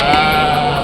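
Goats bleating at a busy rural livestock market in Rajarampalli, a steady loud layered chorus of overlapping animal calls close by with market bustle underneath.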